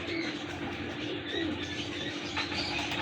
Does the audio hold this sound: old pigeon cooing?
yes